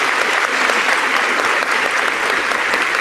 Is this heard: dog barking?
no